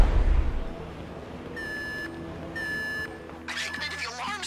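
Two evenly spaced electronic alarm beeps in Grand Theft Auto V sound, each about half a second long, followed by a harsher burst of noisy tones over a low background rumble.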